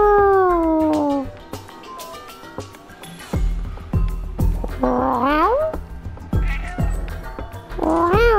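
Cat meows from the video game Stray, several drawn-out, rising and falling calls spread across the stretch, close and fairly loud over low game sounds and thuds.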